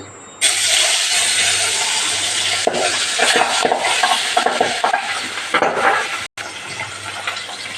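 Pabda fish frying in hot oil in a wok: a loud, sharp sizzle bursts in as the fish goes in and stays close and crackling throughout, with a brief gap near the end.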